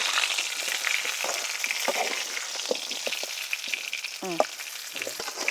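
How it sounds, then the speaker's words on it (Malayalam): Chicken and ripe tomatoes frying in a kadai for Pakistani kadai chicken, giving a steady sizzle with intermittent scraping and stirring clinks, close and alone with no talking. "ഇത് ഇതിലേക്ക് ഇട്ട് കൊടുക്കാം ഇത് നമുക്ക് നന്നായിട്ടൊന്ന് ഇളക്കി കൊടുക്കാം"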